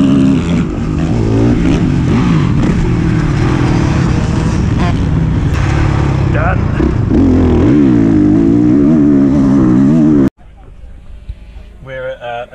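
A Honda CRF 450 motocross bike revs hard on a dirt track, a loud, close, continuous engine roar rising and falling through gear changes for about ten seconds, then cutting to a quieter idle with faint sounds.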